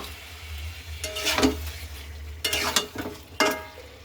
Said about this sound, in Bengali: এবার এটাকে কষাতে কষাতে জল ঢেলে দেবো পরে, আর একটু কষিয়ে নেবো।